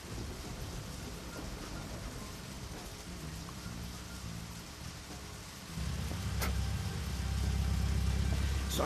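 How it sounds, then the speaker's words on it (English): Steady rain hiss in the video game Deadly Premonition, a continuous wash of patter that grows heavier and is joined by a low rumbling drone partway through, with no talk. "Oh my god, he's out in the rain."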